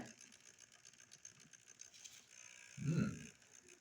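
A Mainline BR class 45 Peak model locomotive with a ring field motor runs slowly, giving a faint, uneven mechanical whir and grinding cog-like ticking that swells briefly louder near the end.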